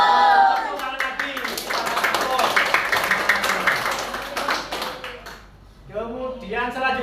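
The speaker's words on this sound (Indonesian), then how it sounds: "Tepuk tangan lagi." A school class clapping together in a classroom, a steady burst of clapping mixed with children's voices, then a brief pause before voices return.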